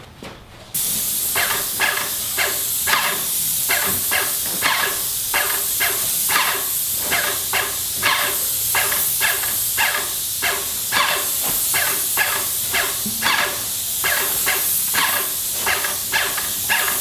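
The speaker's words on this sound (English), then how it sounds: "Now I'm gonna spray my second and final coat." A spray gun applies a second coat of urethane clear finish to a front door, producing a steady hiss broken into regular pulsing bursts, about one per stroke, that continue for the whole stretch.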